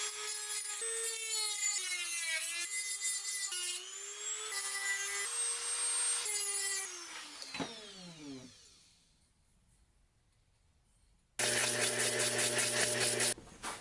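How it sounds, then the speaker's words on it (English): An aluminium lightsaber hilt spins on a metal lathe while being sanded smooth, giving a steady whirring, tonal machine drone that winds down to near silence before the lathe starts up again loud and close. "So we're going to sand the whole thing, smooth it out."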